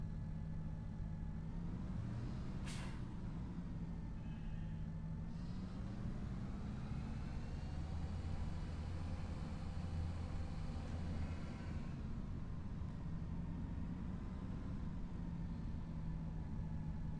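Steady tractor engine in Farming Simulator 25, a continuous low drone that rises and falls slightly as it runs, with no talk over it.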